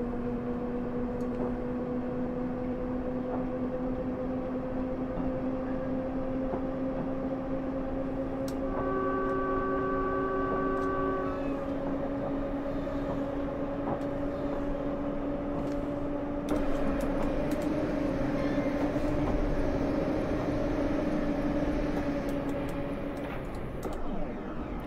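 District Line train with flat, damaged wheels in Train Simulator 2022, an all-motor aluminium-bodied stock: a steady motor whine with rising tonal hums runs throughout, with a brief higher tone midway and a rougher rumble late on.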